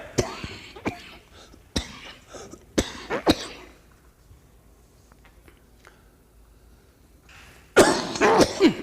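A run of harsh, close coughs, several separate bursts spaced unevenly, then a pause before a louder, longer coughing fit at the end.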